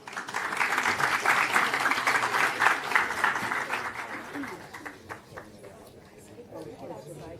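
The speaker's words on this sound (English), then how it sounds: "Let's give her a warm hand of applause." A conference audience applauds as a moderator comes on stage at an energy-financing panel, a dense burst of clapping that gradually thins and tapers off, with some voices mixed in.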